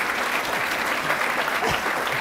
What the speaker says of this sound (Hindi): एक बार इनके लिए भी ताली बजा लो भाई।